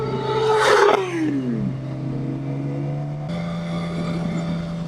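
A Kawasaki ZX6 sport motorcycle engine revs hard and roars through its exhaust, then drops back to a steady, throaty idle rumble close by.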